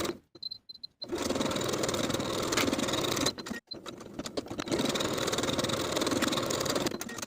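Sewing machine stitching the side seams of knit hem bands for a pull-on V-neck top, running in a steady whirring burst, pausing briefly, then running again close and clear.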